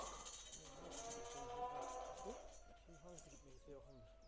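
Cattle lowing in a village farmyard, several moos rising and falling over steady background noise and people talking nearby.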